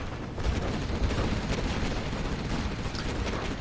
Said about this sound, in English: A10 airstrike is coming through now.